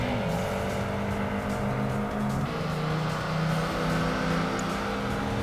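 A Volkswagen Golf R32 in the racing game Project Gotham Racing 2 drones steadily at high revs, its engine tone shifting slightly as gears change, continuous and loud with no talk.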